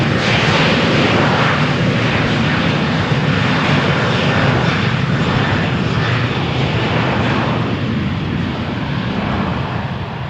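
A Transavia airliner accelerates on its takeoff roll down runway 13 at Malaga Airport on a stormy morning, a loud, close, sustained jet roar with a rising whine that swells and surges, then eases slightly toward the end.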